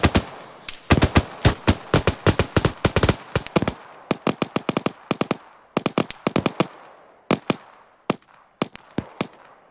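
Rifle and automatic gunfire in ArmA 3 during a British milsim section training, loud close shots in rapid volleys at first, then thinning into spaced single and paired cracks with sharp, clean attacks.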